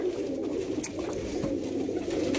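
Tippler pigeons coo in a loft, a steady low murmuring hum running throughout with a few brief higher chirps and rustles, close and continuous, with no talking.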